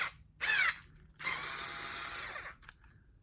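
Power screwdriver loosening hose clamps on a small quad cart, a short whirring burst, then a longer steady spin of about a second and a half, close and fairly loud.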